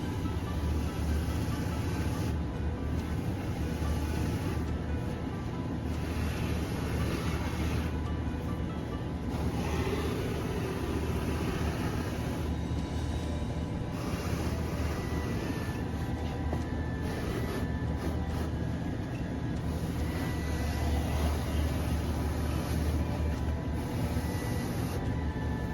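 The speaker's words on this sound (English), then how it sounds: "While we got machine running, we'll go ahead and finish that pair of shoes right there." A shoe repair finishing machine runs continuously, a steady loud mechanical whir and rumble with no talking, as a polished pair of cowboy boots is finished after half sole and heel replacement.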